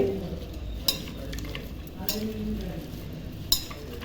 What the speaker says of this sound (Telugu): ఇలా బాగా కలుపుకుంటూ ఉండాలండి ఈ మసాలా అంతా క్యాబేజ్కి పట్టే వరకు బాగా కలుపుకోవాలి